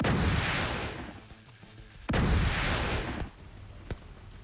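Mortar fire in the video game The Division 2, with heavy booming blasts and rumbling explosions, two big impacts followed by a decaying roar and a smaller pop, loud and dense, with no talk.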